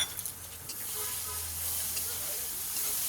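Prawns frying in hot oil with ginger and garlic, a steady hissing sizzle that holds for several seconds with a faint low hum underneath.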